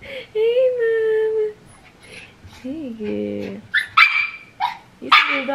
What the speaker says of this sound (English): You see the dog?